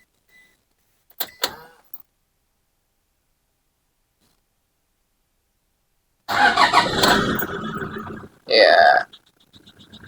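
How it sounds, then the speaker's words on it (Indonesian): A 2012 Toyota Fortuner TRD diesel engine starts with a brief loud cranking burst after long silence, followed by a short second burst. A faint word is spoken early on. "kalian mau denger dikit ya kalau mesin dinyalain kayak gimana starternya"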